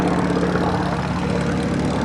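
A Douglas AD Skyraider with its 18-cylinder Cyclone radial engine drones steadily at an airshow, a continuous loud propeller roar with no pauses and no talk.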